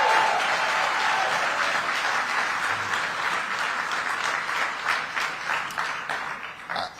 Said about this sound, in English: Give Robert Raven a great big round of applause.